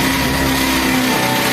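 Honda 70 motorcycle engine held at raised throttle, a steady buzzing drone with a sustained tone that drops slightly near the end, close and continuous with no talk.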